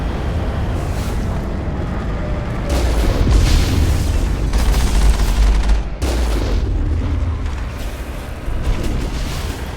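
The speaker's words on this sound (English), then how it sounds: "those things are shooting at me." Enemy Geth shooting in the video game Mass Effect, heavy booming gunfire and blasts over a deep rumbling background, loud and sustained with a sharp cut around the middle.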